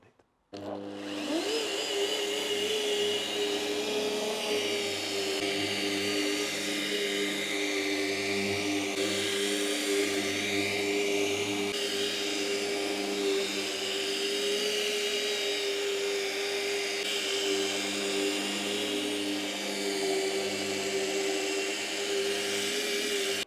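A machine polisher whirs steadily on the paint of a BMW 135i during two-stage polishing, a continuous loud motor drone with a faint rising pitch at the start and no pauses.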